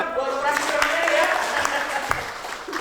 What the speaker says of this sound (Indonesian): saya lagi tepuk tangan dong buat operasi ini ya.